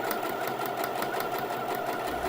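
A sewing machine runs continuously down the long edge of a trouser belt tie, giving a fast, even whirring stitch rhythm that is close and steady throughout.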